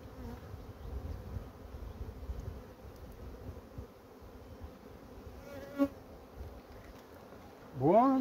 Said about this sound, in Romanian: imediat ce îl simte, albina fuge de el.